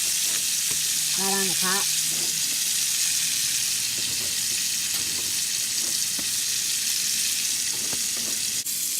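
Hamburger patties and sausage sizzle steadily in a pan with a constant bright hiss, while someone talks briefly over it and a few clicks and scrapes of handling punctuate the frying.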